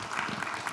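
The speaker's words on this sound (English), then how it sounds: "a round of applause to them again" A short burst of steady clapping from a conference audience, dense and even throughout.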